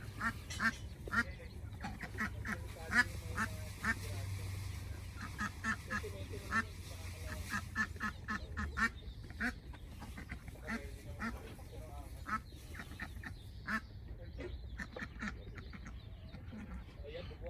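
A group of five ducklings on a small farm, fed on azolla and feeds, quacks in a busy run of short repeated calls, fairly near, with occasional talk and a low background hum.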